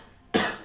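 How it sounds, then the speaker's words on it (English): A single short cough, sudden and fairly loud, heard from inside a room and breaking the quiet with one rough burst. "you can hear a weak coughing from inside."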